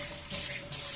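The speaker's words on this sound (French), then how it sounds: "je rince un tout petit peu avec de l'eau pour que ça rentre" Water runs from a sink tap in a brief, steady close stream, rinsing during the renovation of an oak worktop, with no voices.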